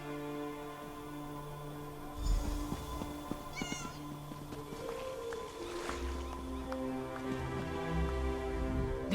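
Several cats meow in the Elder Scrolls Online video game, Morrowind setting. Scattered cries rise and fall over a sustained musical background, fairly soft overall, with no talking.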